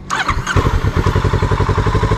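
A Kawasaki Z650RS motorcycle engine cranks briefly, catches and settles into a fast, loud, steady thumping idle close by.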